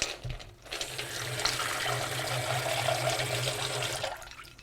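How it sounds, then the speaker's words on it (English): Tap water runs into a bowl for washing homemade butter, a steady hissing gush that starts after a brief clunk and stops near the end, close and moderately loud without speech. "I'm going to clean out and put fresh water in here"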